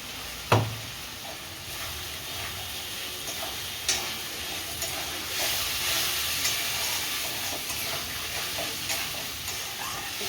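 Chana dal sautéing in a pan for a vegetarian cholar dal dhoka, with salt and a little sugar added: a steady soft sizzle and scraping stir strokes, a sharp clank near the start, close and without talk.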